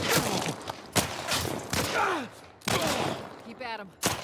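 Pistol shots ring out in The Last of Us Part I during a close-range fight, several loud, sharp single cracks spaced apart, with grunts and voices heard between them.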